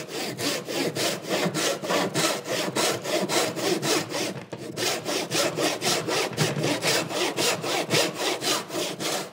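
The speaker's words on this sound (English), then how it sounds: "I'm going to cross cut with my tenon saw." A tenon saw cross-cuts a wooden tenon at a workbench in steady, rhythmic back-and-forth strokes, loud and close, with a brief pause near the middle before sawing resumes.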